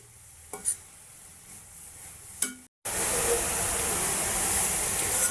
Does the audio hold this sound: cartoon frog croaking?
no